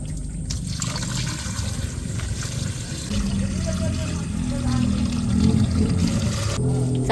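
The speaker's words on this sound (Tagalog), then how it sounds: "Lalagyan lang po natin ng tubig" Water is poured into a large steamer pot, a steady splashing gush that thickens and fills in as the level rises, with a brief murmur of speech at the start.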